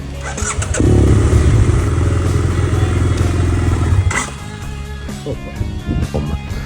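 A BMW GS800 motorcycle with a Rotax engine runs loud and close for about three seconds, then stalls abruptly with the clutch pulled in, leaving scattered clicks and faint rattles afterward.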